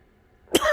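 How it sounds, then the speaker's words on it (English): A single short cough from a person sick with COVID-19, heard close and alone after near silence, sharp onset with a brief raspy tail. "I cough"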